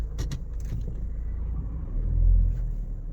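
Low steady engine rumble from a 2013 Ford Kuga 2.0 TDCi diesel SUV while driving, heard from inside the cabin, swelling slightly louder near the end with faint rattles and no talking.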